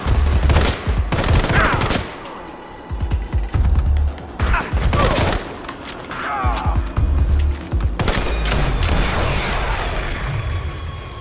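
Bursts of assault rifle fire in the Sniper Fury mobile shooter game, loud repeated volleys separated by short pauses, with sharp rapid shots and some mechanical clatter.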